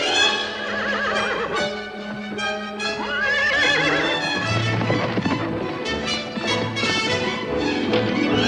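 A horse whinnies loudly and gallops with rhythmic hoof clatter in a film scene, mixed with orchestral music for the whole stretch.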